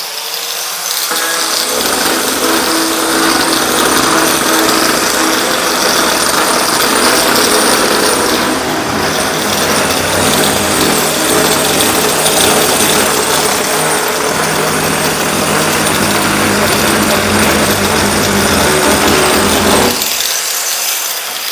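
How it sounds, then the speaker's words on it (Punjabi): An angle grinder roughens a surface for safety, a loud, steady, close grinding whine that runs for nearly twenty seconds without a break, then cuts off. "ਇੱਥੇ ਗ੍ਰੈਂਡਰ ਫੇਰਾਂਗੇ"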